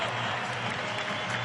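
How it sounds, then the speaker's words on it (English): A crowd at a Bradley Braves college basketball game applauding a senior player named Marcellus, a steady wash of clapping throughout with a faint commentator's voice underneath. "Marcellus gets a good hand from the crowd here tonight in his senior season at Bradley"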